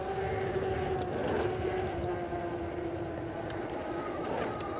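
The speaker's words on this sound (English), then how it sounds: "So if I let off, you guys can hear the motor, it stops." A Jansno X50 budget electric bike's pedal-assist motor runs with a steady, low mechanical whine, heard close under continuous road and wind rumble.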